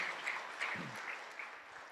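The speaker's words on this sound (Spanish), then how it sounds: "¿Cuánto le dan un aplauso al Señor?" A church congregation claps at a Spanish-language sermon, giving soft, sustained applause a short way off. A faint low voice murmurs briefly partway through.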